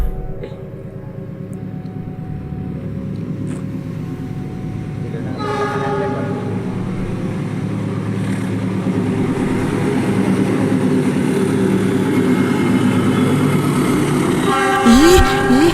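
A commuter train at Bekasi, Indonesia, rumbles past steadily and loudly, growing in intensity, with a brief horn-like tone near the end.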